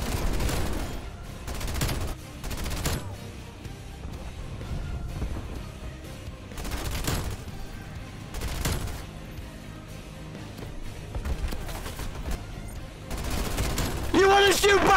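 Rapid bursts of PPSh-41 submachine gun fire in a video game, loud and repeated in several volleys through the whole stretch, with game effects around them.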